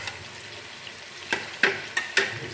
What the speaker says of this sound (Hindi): हम चिकन के साथ ही फ्राई कर लेते हैं